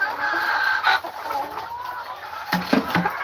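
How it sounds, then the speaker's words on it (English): Royal palm turkeys and chickens cluck and murmur on a farm in a steady, busy chorus, with a few sharper calls toward the end. "Royal palm turkeys."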